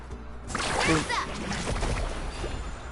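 Water splashes and sloshes as waves are carved in Genshin Impact, a burst of splashing rising after a brief quiet start and then settling into a steady rushing wash, with a character voice speaking over it.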